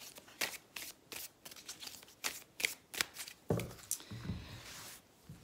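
Tarot cards shuffled by hand in a run of quick riffling bursts, close and fairly quiet, ending in softer rustling of the deck.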